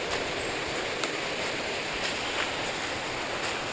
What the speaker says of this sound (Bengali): এবার জলের আওয়াজটা পাচ্ছি ভালো।